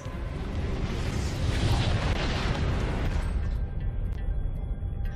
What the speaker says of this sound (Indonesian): ledakan besar terjadi hingga mengguncang seisi ruangan